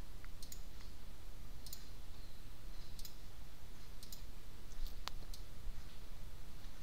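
A computer mouse clicks quietly about once a second, a series of crisp, faint taps over a steady low hiss while the eyedropper tool is used in editing software.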